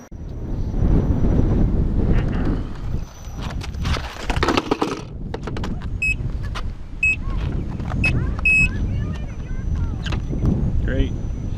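Gusty wind buffets the microphone outdoors in a steady low roar while someone waits to ride underneath something, with brief clicks and a few high electronic tones partway through.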